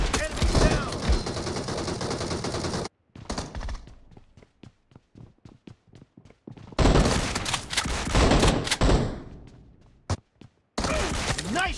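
Rapid bursts of gunfire in the BGMI battle royale mobile game, with loud close volleys separated by brief quiet gaps and scattered single shots in between.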